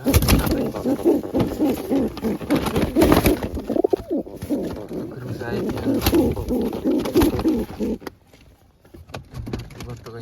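Pigeons kept indoors on an upper floor of a home coo repeatedly close by, their low throaty calls running through the whole stretch, with voices talking intermittently over them.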